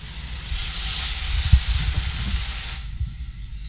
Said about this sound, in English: And it should really sizzle.